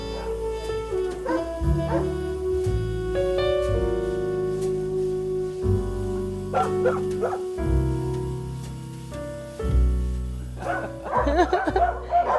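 Several dogs bark, yip and whine loudly and close by, their noisy calls overlapping almost without a break.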